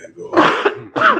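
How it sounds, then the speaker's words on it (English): A person gives a few throat-clearing coughs, close and loud, in two bursts separated by a brief pause. "Go ahead and cough, baby."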